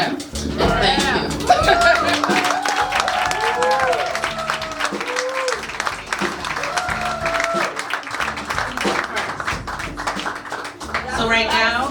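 Poetry-jam audience at a lounge event breaking into applause and hand claps, steady crowd clapping throughout with scattered chuckles, chatter and voices over it.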